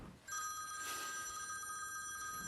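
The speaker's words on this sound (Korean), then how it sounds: "또 한 번의 장난 전화가 오는데" A telephone bell rings in a school with a prank call, its bright trilling tone starting abruptly and sustaining steadily at moderate level against a quiet room.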